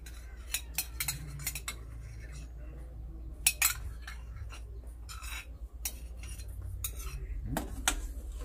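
Peanut butter and mustard marinade for spare ribs being stirred in a bowl, with a utensil clinking and scraping against the sides in irregular bursts, near and fairly quiet.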